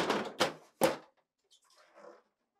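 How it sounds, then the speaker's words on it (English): Freezer drawer of a GE French-door refrigerator being pulled forward and lifted out: three sharp clacks in quick succession, then a softer sliding scrape and faint rattle. "Then pull the upper drawer forward and tilt it up and out."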